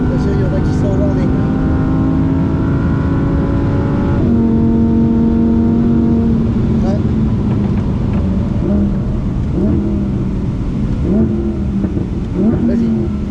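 Ferraris accelerating during a track coaching event: engine notes rise in pitch and shift through gears, loud and continuous, with people talking over the roar.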